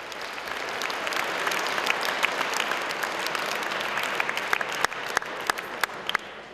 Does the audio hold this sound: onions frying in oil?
no